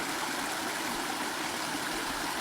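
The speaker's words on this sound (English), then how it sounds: "All right, we came to a little creek crossing." A small creek crossing on a Grand Canyon backpacking trail, its water rushing and trickling in a continuous, even wash of sound with no talking.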